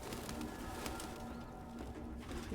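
A pigeon in a video game, Detroit: Become Human, coos softly a few times over a low, steady background hum, faint and close.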